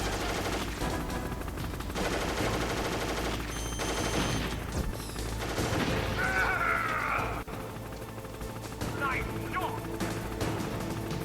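Machine-gun fire in Metal Gear Solid rattles through a noisy in-game scene, with bursts of shots, mechanical clanks and electronic tones layered together at a steady, fairly loud level.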